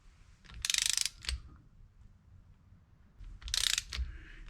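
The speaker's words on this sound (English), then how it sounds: "I'm going to go around and torque these to 10 foot-pounds" A torque wrench ratchets while tightening bolts on a Honda CB350 engine being assembled, giving two close, crisp bursts of rapid clicking, each followed by a brief click or clunk, with quiet pauses between.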